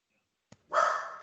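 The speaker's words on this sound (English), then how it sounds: "That was my dog in the background." A dog barks once in the background, a brief sharp yelp following a faint click, then trailing off into a longer noisy burst.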